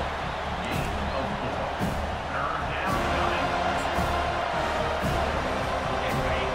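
Home crowd at a Miami vs FSU college football game in a stadium, giving off a continuous loud roar with no breaks.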